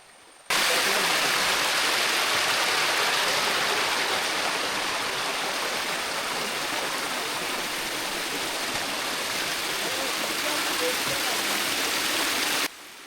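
A large waterfall in dense jungle, at a rocky spot where wild elephants come to drink, pours with a loud, steady roar. The rush continues unbroken and close, with no other sounds over it.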